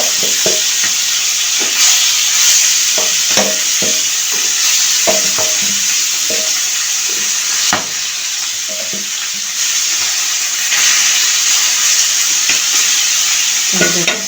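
Fish frying in hot oil in a frying pan, giving off a loud, steady sizzle with repeated clattering stirs and scrapes throughout, no voices.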